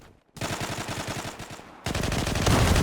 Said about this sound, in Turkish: Ulan direkt taramaya başladı.